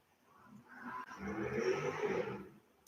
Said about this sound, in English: I'm always so impressed when really loud engined motorbikes go past.